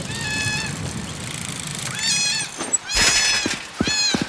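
Cats meowing in the game Cat Parents, where players cycle through a city collecting strays: several distinct high meows in a row, with a brief clattering burst near the end.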